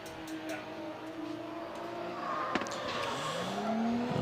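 A Toyota 86 drift car with a 2JZ engine runs on a track, its engine note climbing with tires squealing and a sharp bang, heard at a moderate distance and rising toward the end.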